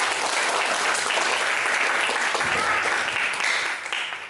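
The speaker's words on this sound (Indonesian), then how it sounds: "sekali lagi aplaus untuk kelompok 3" A classroom audience applauds group 3, a dense, steady clapping from many hands nearby that tapers off at the end.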